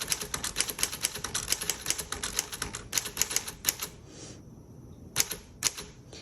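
Keys of a 1954 Smith Corona Tabulator typewriter clack in quick bursts of sharp, close strikes, with a short pause before a few final hits; no voices.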